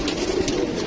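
High-flyer pigeons, kept as birds for sale in Lahore, give a short, soft, low coo against steady background noise.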